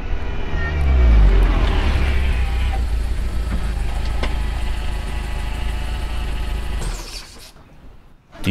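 An old car engine idles loud and steady as a radio drama effect, a deep rumble that swells early on, holds, then drops away toward the end before a brief return.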